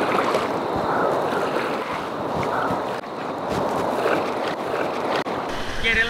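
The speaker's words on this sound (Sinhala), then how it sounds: "කිතුල්ගල සැඩපහරේ ඔරු පැද යාම" White-water rapids on the Kelani river at Kitulgala surge during rafting, a dense continuous roar of rushing water and wind, loud and close throughout.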